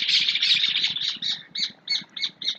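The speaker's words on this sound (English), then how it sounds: "Sorry, just had the birds going nuts." Birds squawking loudly nearby, a rapid harsh run of calls that breaks into five or six separate squawks spaced at a steady rhythm, with no talk.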